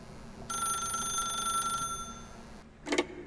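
A telephone rings in the video game The Stanley Parable, one long continuous electric bell ring lasting over a second, then silence and a short low clunk as the handset lifts.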